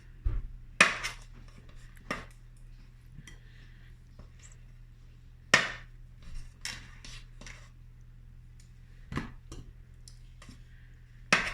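A knife halves boiled potatoes, giving a few sparse, crisp taps against a cutting board in a quiet kitchen, with no voices.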